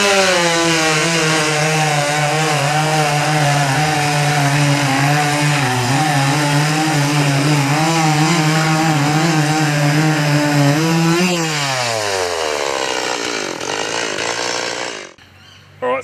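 A petrol chainsaw runs at a loud, steady high-revving whine while cutting through wood, holding pitch for about eleven seconds before the engine note drops and winds down to a brief near-silence at the end.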